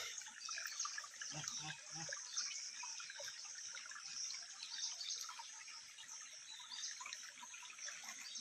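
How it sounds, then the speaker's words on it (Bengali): Water flows steadily close by at a Mahadev temple in Maharashtra, a continuous bright rushing hiss throughout, with a brief voice speaking near the start. "দেখো এখান থেকে জল যাচ্ছে"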